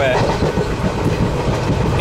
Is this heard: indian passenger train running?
yes